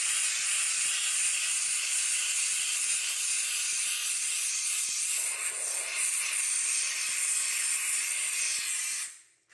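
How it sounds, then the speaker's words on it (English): Bissell Steam Shot hard surface steam cleaner hissing steadily as it steams, a loud continuous high hiss with faint ticking underneath, cutting off abruptly at the end. "So we'll go ahead, we'll keep steaming it."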